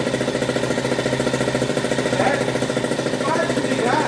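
Small moped engine with a decompressor head, pulled with a starter cord while cold, giving a fast, rough, rattling putter that runs steadily and close.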